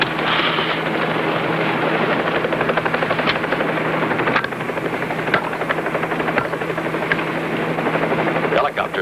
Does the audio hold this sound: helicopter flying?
yes